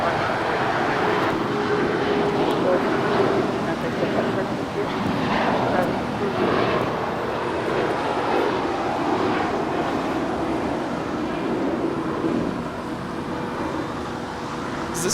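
A SkyWest Delta Connection jet bound for Denver moves at Los Angeles International Airport, its engine roar a steady broad rumble from a moderate distance, with faint talk and radio chatter underneath.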